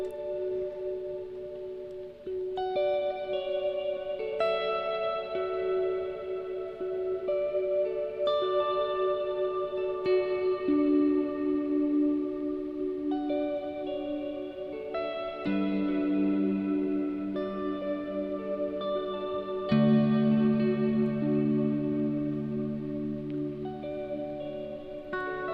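Layered sustained guitar tones from a Chase Bliss Audio Blooper looper pedal stack and overlap, washed in reverb, each layer ringing on and slowly fading as new ones enter.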